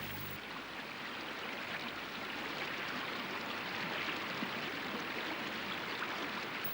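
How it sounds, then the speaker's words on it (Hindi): The Ganges river flowing, a continuous broadband rush of moving water that stays steady and full throughout, with no voices. "ये परम पावनी सर्व पापनाशिनी गंगा है"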